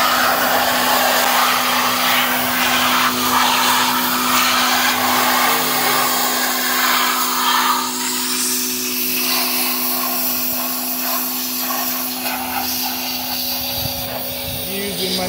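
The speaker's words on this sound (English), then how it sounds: "My new pressure washer." A new pressure washer runs steadily and loudly close by with a constant motor hum and spray hiss while people talk over it, during work on the hood of a 2002 Dodge Ram 1500.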